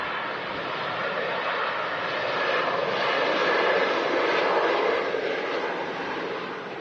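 An Emirates Airbus A380 comes in to land at Manchester Airport with a steady, broad engine roar that swells slightly and holds, heard from a distance with no voices.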